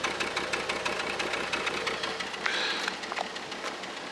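A car engine idling with a misfire, a steady uneven knocking rumble with a brief hiss partway through, close and moderately loud, with no talk.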